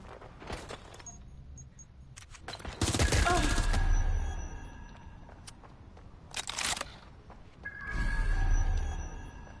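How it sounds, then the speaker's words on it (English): Scattered gunshots and short bursts of fire during a shootout in the Watch Dogs Legion video game, several sharp cracks separated by quieter gaps, with rumbling low-end tails and faint game chatter beneath. "Suspect has opened fire! This is really Don't bother hiding! incoming fire!"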